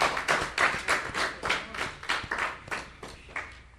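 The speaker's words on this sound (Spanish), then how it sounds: "Eso merece un aplauso." Audience applause at a Spanish-language church sermon, a few seconds of rhythmic, fairly close clapping in steady repeated bursts.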